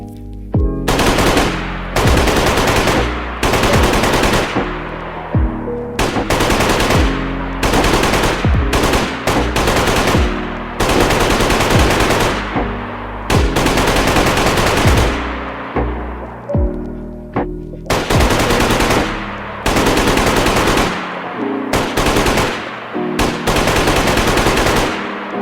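PKM Russian light machine gun chambered in 7.62, fed from a 100-round box, fired in modded DayZ gameplay: loud sustained automatic bursts repeat with short pauses between them, with no talking.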